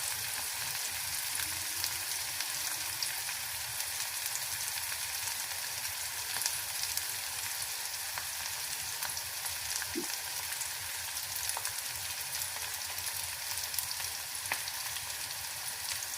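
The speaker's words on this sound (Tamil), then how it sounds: "நல்லா ஃப்ரை ஆகணும்." Fish curry ingredients frying in a pan give a steady, even sizzle like light rain that lasts throughout, with a couple of faint clicks and no voices.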